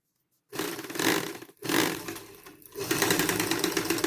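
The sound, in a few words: sewing machine stitching a dish towel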